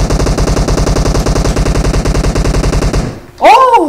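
Rapid automatic gunfire from PUBG Mobile rattles loud and steady for about three seconds in a dense rhythmic burst, then cuts off into a brief swooping game sound.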